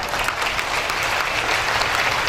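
Brahma Kumari sisters at a stress-relief retreat in Munger, Bihar, give loud, vigorous applause: a thick, sustained roar of clapping at close range that stays strong from start to finish.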